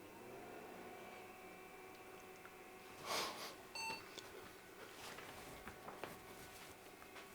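A computer from 2002 sounds a short electronic power-on beep from its case, a brief bright tone standing out over faint background hum in a quiet room, with a few small clicks after.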